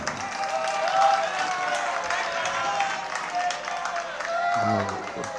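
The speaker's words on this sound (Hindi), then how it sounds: "बजी तालियां।" Audience applause breaks out during a Jain monk's sermon: a sustained wash of many hands clapping, moderately loud, with a voice heard over it.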